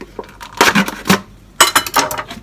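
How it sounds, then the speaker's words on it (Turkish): A few sharp, close knife strikes chopping sucuk sausage on a cutting board in two quick groups, crisp chopping taps with brief pauses between them. "Şimdi sucuğumu doğrayacağım."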